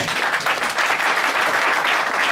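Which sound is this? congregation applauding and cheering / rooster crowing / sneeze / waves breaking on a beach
congregation applauding and cheering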